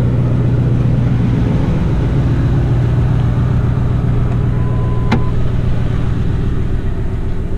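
A 2008 Ford F250 with the 5.4 engine idles after a cold start, a loud, steady low rumble close by with one brief click partway through.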